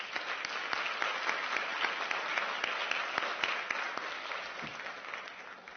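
A school audience at a middle school team awards ceremony gives steady, dense applause for school administrators, continuous and even throughout at moderate volume.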